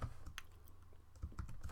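Keys clatter on a computer keyboard in quick irregular taps, quiet and close, with a short busier burst of keystrokes near the end.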